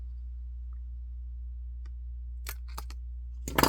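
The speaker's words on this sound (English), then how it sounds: "I'm going to cut this hole." Scissors cut a hole in a paper store tag in a quiet room over a low steady hum: a few faint early ticks, then sharper snips that build to a dense final burst of cutting.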